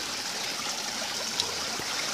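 Cold creek water about a foot and a half deep flows in a steady, close, continuous rush and trickle, with no voices over it.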